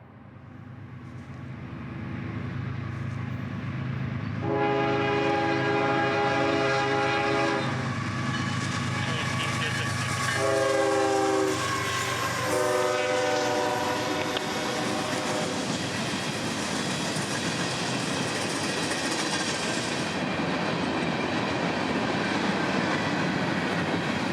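A freight train arrives at a rail junction, its rumble swelling as a loud horn blasts in several long chords, followed by a steady roar of wagons rolling past nearby.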